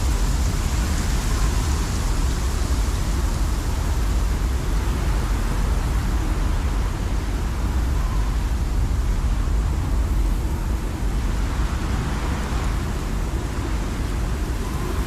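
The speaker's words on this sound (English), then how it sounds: "We'll just have to wait out the storm." Roaring sandstorm wind in the video game Conan Exiles, a dense, continuous rushing noise heavy in the low end, steady and loud throughout with no letup.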